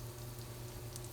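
Battered pumpkin blossom frying in shallow oil in a pan gives a steady, soft hiss and fine crackle that continues evenly throughout, fairly quiet, with no voices.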